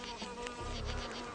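A leafcutter bee buzzes steadily at close range while it cuts a piece of leaf, the hum continuous and fairly faint for the whole moment, with no voices over it.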